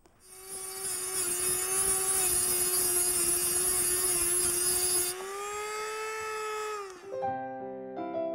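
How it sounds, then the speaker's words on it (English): A rotary tool cuts through copper for a lantern, giving a loud, steady high-pitched whine that holds for about five seconds, drops in pitch while still grinding, then spins down at the end. No voices. "Now I clamp it, and then cut it with that rotary tool."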